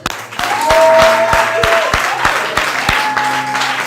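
A church congregation claps and cheers in praise of the Lord, with sharp, steady handclaps and voices calling out, loud and close throughout, with a sustained tone running underneath.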